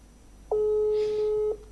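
Telephone ringback tone during an ordinary phone call: a single steady electronic beep lasting about a second, clear and fairly loud over faint room noise.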